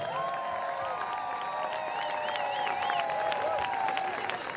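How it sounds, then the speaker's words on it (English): A large stadium crowd applauds and cheers for the Salt Lake Shred at the 2023 UFA ultimate frisbee championship, a steady roar of clapping with whistles and shouts rising through it. "Please give them a big round of applause."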